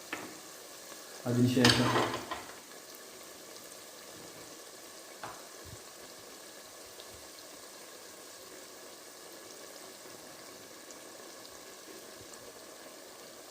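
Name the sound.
onions frying for Kerala prawn biryani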